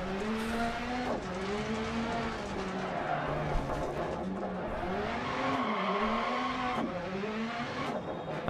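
A VW Polo rally car in Dirt Rally skids on the Höljes track in Sweden, its tires squealing through long sliding turns over a loud, continuous engine drone, close and without pause.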